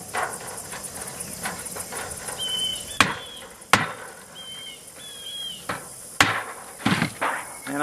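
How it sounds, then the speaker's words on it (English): Aluminum valley-roll strips are stapled onto a rat trap, several sharp loud percussive snaps at irregular intervals over a background hiss. "And I staple it in place."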